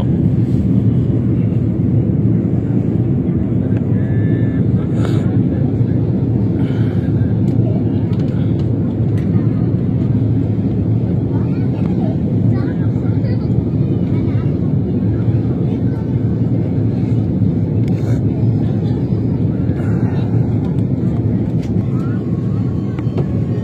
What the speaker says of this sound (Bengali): এখন ইমিডিয়েট ল্যান্ডিং অ্যাপ্রোচে যাচ্ছে BG316 এগিয়ে যাচ্ছে ল্যান্ডিং এর জন্য